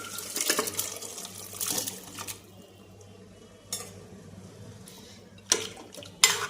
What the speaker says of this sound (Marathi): ह्यामध्ये आपल्याला पाहिजे तसं पाणी टाकायचं।